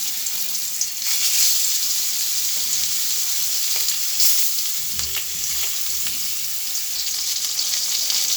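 Fish frying until crisp in hot oil on a stovetop, a steady, loud, hissing sizzle that runs unbroken throughout with no talking.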